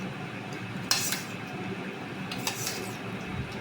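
Bitter gourd dal is served into a bowl with a few sharp clinks of cutlery and dishes, quiet and close, with no speech.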